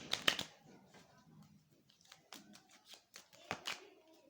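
Oracle cards being shuffled and handled: a quick burst of close, crisp card riffles and taps at the start, followed by softer rustling and brief flicks, with a few sharper slaps near the end. No speech.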